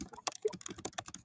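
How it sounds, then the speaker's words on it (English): Rapid, uneven clicking of keys on a computer keyboard, close and fairly crisp, with short bursts of keystrokes and no talking over it. "And typing."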